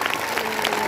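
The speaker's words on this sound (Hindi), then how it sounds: "एक बार और ताली बजाइए अच्छे ढंग से।" A crowd at a school prize distribution ceremony claps steadily and loudly, with dense, continuous applause throughout.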